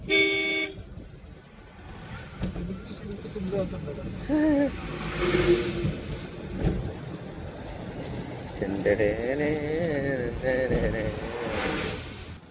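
A Tata Intra V30 mini truck drives along a road in the rain, with steady engine and road noise, passing traffic and a few car horn toots, under ongoing talk.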